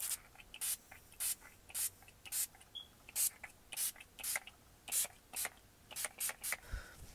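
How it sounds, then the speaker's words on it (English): Maven Beauty Rose Water Setting Spray misted onto a face in a rapid series of about fifteen short, soft, close pump sprays, quiet with no talk. "I'm going to take the Maven Beauty Rose Water Setting Spray."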